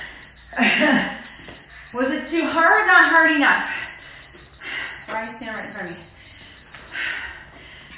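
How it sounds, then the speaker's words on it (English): During a home workout, a high, thin electronic alarm tone sounds repeatedly to mark the end of the session while someone talks over it at close range. "That's the alarm."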